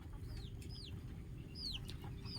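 Several broody desi village hens on a small poultry farm cluck softly nearby, short repeated calls over a low steady hum of background noise.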